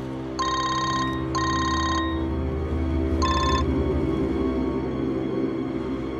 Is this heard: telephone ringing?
yes